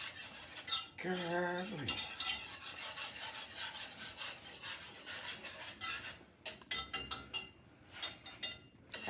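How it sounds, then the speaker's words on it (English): Gravy is stirred in a skillet as it simmers, a soft repeated scraping and rubbing of the utensil against the pan, steady and close, with a short exclamation from a voice early on. "let it simmer, keep on stirring. Get all the lumps out"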